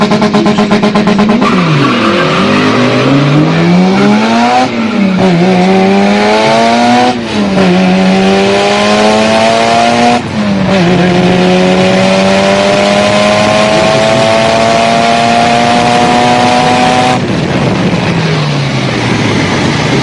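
A Mitsubishi Evo 8 street racing, its engine loud and close as it revs hard through repeated gear changes, pitch climbing and dropping with each shift over continuous road roar.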